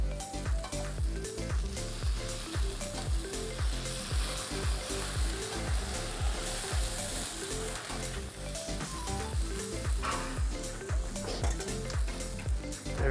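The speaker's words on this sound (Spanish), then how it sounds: "vamos a añadir el caldo de pita" Pita broth poured over softened vegetables sizzles steadily in a pan, a dense continuous frying crackle with occasional stirring, close and fairly loud throughout.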